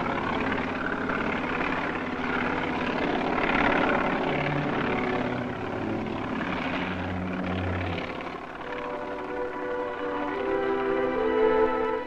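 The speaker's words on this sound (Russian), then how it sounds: "Оперативные переброски производились на вертолетах." Soviet-era helicopters fly during Tsar Bomba test operations on Novaya Zemlya, in archival footage. A steady, droning rotor and engine hum with tonal whine runs throughout, fairly loud, with no talking.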